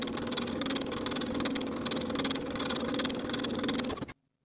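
A sewing machine edge stitches a blouse with a Peter Pan collar, sewing about 1/8 inch from the edge. Its motor gives a steady, close whirring hum that runs without a break and then stops abruptly near the end.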